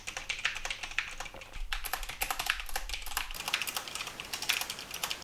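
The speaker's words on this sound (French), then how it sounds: "un test de frappe Au clavier permet de tester la résistance au bruit ambiant de celui-ci" Rapid, steady typing on a computer keyboard, close up, with a dense run of light key clicks continuing throughout and no voices.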